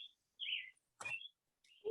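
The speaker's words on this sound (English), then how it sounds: "I guess the birds want to tell them something." Birds chirp outdoors in short, bright, separate calls with brief silent gaps between them, fairly faint and heard alone without talk.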